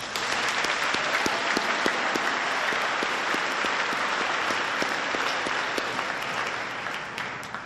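Banquet audience at a high school academic awards event gives a sustained round of steady, even applause from many hands, filling the room with no speech over it.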